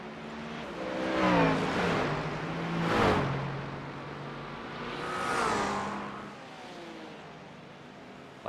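Race car engines at Watkins Glen in a sim racing endurance event, several cars swelling and fading as they pass with rising and falling engine pitch, moderately loud, no talk.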